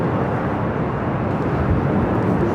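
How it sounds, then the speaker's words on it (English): WestJet Boeing 737-700 airliner in newer paint at LAX during takeoff, a steady broad jet roar heard from a distance, with no speech. "I got a WestJet."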